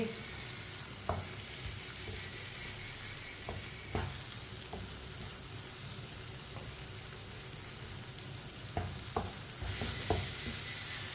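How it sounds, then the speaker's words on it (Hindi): Eggs being stirred into a pan of tinda vegetable curry, a steady close sizzle with scattered sharp spoon knocks against the pan, continuous and unaccompanied by any voice. "अंडे डालेंगे, अच्छी तरह मिक्स कर लेंगे, अच्छी तरह मिला लेंगे।"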